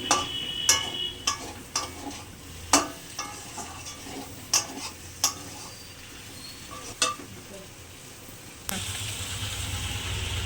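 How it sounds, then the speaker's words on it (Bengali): Capsicum and onions sautéing in a pan over a soft sizzle, with a series of sharp scraping and tapping spatula strokes, then a louder burst of frying near the end. "ক্যাপসিকাম দিয়ে দিলাম পেঁয়াজগুলো এইভাবে কেটে ছাড়িয়ে রেখেছি দিয়ে দিলাম একটু কষিয়ে নেবো এটাও"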